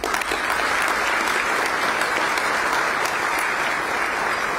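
Sustained applause from a large audience at a county State of the County address, honoring students, a thick, even roar of clapping with no pauses.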